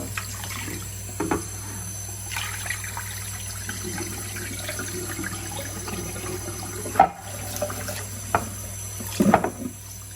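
Running tap water pours steadily while rice is rinsed, a continuous hiss with occasional splashes and clinks of handling near the sink, close and moderate, with no talking.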